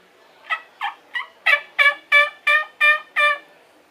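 A hunter's turkey call imitates a hen, giving a series of nine quick yelps that grow louder and longer as they go, clear and close with no talking.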